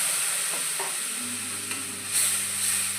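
Tomato puree is added to a pan of frying spices, including whole cinnamon, cloves, peppercorns and turmeric, for a Bengali lau kofta curry, producing a steady, soft sizzling hiss with brief stirring scrapes.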